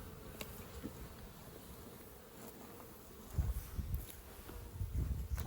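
Bees buzz steadily around a mini nuc beehive, robber bees among them, a close, continuous hum with a few soft thumps and handling noises toward the end.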